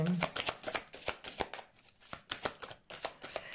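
Playing cards handled and drawn during a card reading, a series of close, crisp flicks and slides in an irregular rhythm, with a voice briefly speaking at the start.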